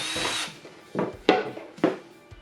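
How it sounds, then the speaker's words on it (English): A 1-inch spade bit bores holes through wooden crossbeams for a model railroad layout, giving a brief scraping whir followed by three short rasping bursts of cutting. "I want pass-throughs for wires, so I use a 1-inch spade bit to cut 2 holes in each crossbeam"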